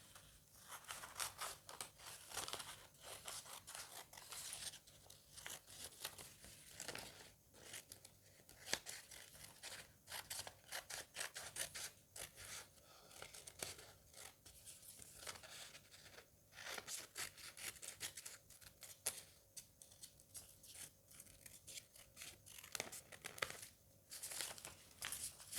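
Scissors snip through bra cup fabric held down with sellotape, with faint crinkling of the tape. The cuts come as a long run of quiet, irregular snips and rustles, close by.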